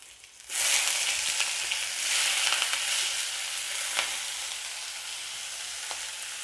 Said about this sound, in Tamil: கடுகு பருப்பு பொரிஞ்ச உடனே வெங்காயம்